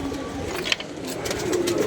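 Pigeons heard close by, with soft cooing and the fluttering of birds stirring, over a busy outdoor background with faint voices.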